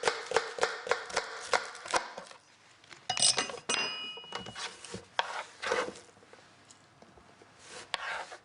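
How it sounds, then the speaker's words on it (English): Knife chopping a spring onion on a wooden board, a run of close, crisp rhythmic taps followed by scraping, light clinks and more scattered cuts, moderately quiet with no talking. "I want a spring onion, finely chopped in a manner of speaking."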